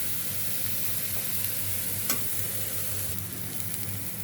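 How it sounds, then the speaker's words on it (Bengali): Vegetables with green chillies crackle in hot oil in a pan while cooking ridge gourd stalks with fish, giving a steady, close, even sizzle without any talking. "আর হ্যাঁ, এই তেলে খুব সুন্দর ভাজা হচ্ছে।"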